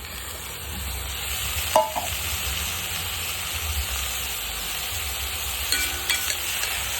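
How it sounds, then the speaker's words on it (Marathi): Chopped dill greens sizzle and get stirred in a frying pan with garlic, a steady soft frying hiss with a couple of brief utensil scrapes against the pan, no talking. "आता याच्यामध्ये मी भाजी चिरलेली टाकून घेतो"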